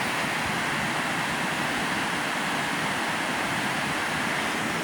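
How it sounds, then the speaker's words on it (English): Water rushes over an old stone mill dam, heard from right on top of it as a loud, steady, unbroken roar with no talking. "And you can hear the water."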